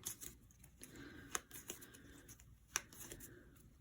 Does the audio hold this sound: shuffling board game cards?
yes